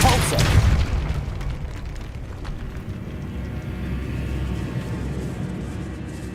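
A Depulso force spell cast in the Hogwarts Legacy video game, in a decaying catacomb, lands as a deep booming burst at the start and rumbles away into low ambience.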